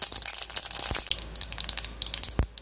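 Mustard seeds and urad dal fry in hot oil in a pan, giving a continuous close crackle and sizzle with rapid popping spatters.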